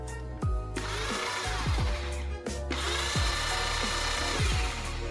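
A small electric Kuru baby food chopper motor whines loudly in bursts, its pitch dropping and surging as the blades spin up and slow down, with no voices.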